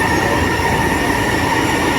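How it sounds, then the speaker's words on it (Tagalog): An elevated MRT train rolls past above EDSA in a loud, steady roar of wheels on rail, with a high metallic squeal running through the continuous rumble. "Ayan yung MRT, maingay"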